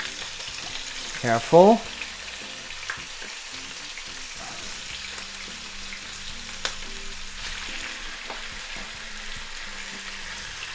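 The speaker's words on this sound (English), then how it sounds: "quickly we start stirring and mixing things up" Pork stir-frying in a pot gives a steady low sizzle throughout, with a brief louder clatter of stirring near the start and a single short spoken word.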